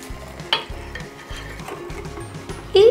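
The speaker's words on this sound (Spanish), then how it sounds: "Revolvemos, revolvemos y revolvemos hasta que empiece a espesar." Hot cream, milk and eggs stirred in a pot over the heat, a close rhythmic scraping of a spoon circling the pan with a few sharper clinks, and a brief louder knock at the end; no voices.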